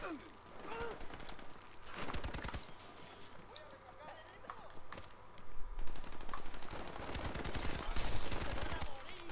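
Bursts of rapid gunfire crackle in Army of Two: The Devil's Cartel, two clusters of sharp shots over busy background noise while people talk excitedly.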